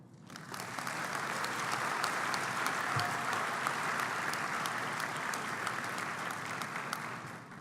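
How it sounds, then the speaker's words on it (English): Doctoral graduates at a 2019 commencement ceremony give themselves a sustained round of applause, a broad, even crowd clapping heard from a distance and fairly faint. "So give yourselves a round of applause."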